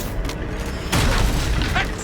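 In the Hogwarts Legacy video game, a Confringo explosion spell bursts loudly with a booming blast and a crackling spray, among other combat noise and a spoken voice.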